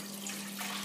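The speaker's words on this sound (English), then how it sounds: "I have 4 cups of chicken stock that I'm pouring in." Chicken stock poured from a container into a cooking pot in a home kitchen, a soft continuous liquid stream that stays faint and even, with no talking.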